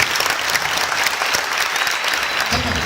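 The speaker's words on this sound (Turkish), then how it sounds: "Tekrar alkışlarım arkadaşlar." An audience claps warmly at a talk, dense steady applause from many hands filling the room throughout, fairly loud and close.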